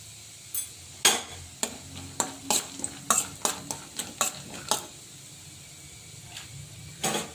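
Cashews and almonds frying in ghee for rice kheer, with a steady low sizzle under a run of sharp spoon clinks and stirring scrapes against the pan, roughly a dozen close knocks in a loose rhythm, then a quiet pause and one last scrape.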